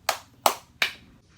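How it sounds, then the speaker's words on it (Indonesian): Three sharp hand claps spaced evenly about a third of a second apart, close and crisp with short decays, heard alone without talk. "Tepuk tangan dong."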